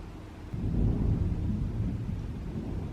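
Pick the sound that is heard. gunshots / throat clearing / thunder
thunder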